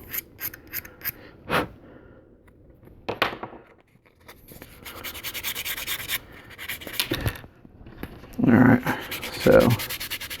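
Hand sanding of primer on white resin model parts, close and intermittent, with short scratchy rubbing strokes spread between pauses and a few brief murmured words.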